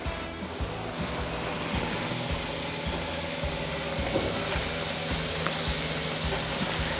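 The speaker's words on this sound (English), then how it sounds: "You hear that sizzle?" Steady, dense sizzling of brisket on a hot grill, loud and close, crackling continuously throughout with no voices.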